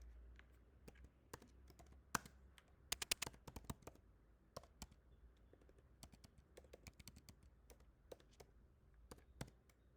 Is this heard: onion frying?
no